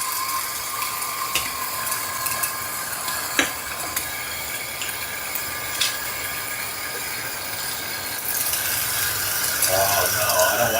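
A Timemore Sculptor coffee grinder grinds beans with a steady, dense gritty whir and faint ratcheting crackle throughout, growing slightly louder near the end.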